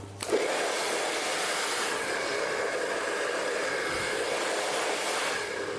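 A hair dryer blows hair over a brush to set outward curls, a steady loud whooshing whine running continuously after a brief click at the start, close and without speech.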